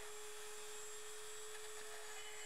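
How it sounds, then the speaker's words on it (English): A standard Dremel rotary tool on a flex shaft drills wet pilot holes, producing a continuous, even high whine over a steady hiss, heard alone at low level. "This is a standard off-the-shelf Dremel tool."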